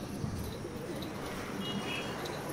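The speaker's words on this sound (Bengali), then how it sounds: "দেখো এটা দাদার লাল নর আছে, ঘরের সব থেকে পুরাতন পায়রা" An old red male pigeon, about 25 years of age, coos softly in a quiet room, its low murmuring calls faint against a background hiss.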